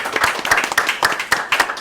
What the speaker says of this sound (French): Alors, on va applaudir.